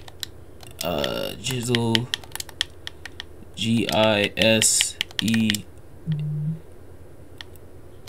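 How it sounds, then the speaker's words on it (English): Quick bursts of keyboard typing as a name is entered into a search box in the WWE 2K22 wrestling game, short clusters of clicks between pauses, with someone speaking briefly. "So let me type in her name real quick."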